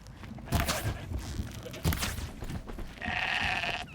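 Goats in the video game Horizon Zero Dawn bleating close by, a couple of sharp calls with footsteps and thuds around them, ending in a longer sustained bleat.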